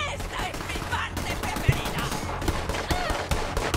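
Rapid bursts of Borderlands 3 gunfire crackle over a dense, busy soundtrack, with a couple of sharper shots standing out and voices faintly mixed in.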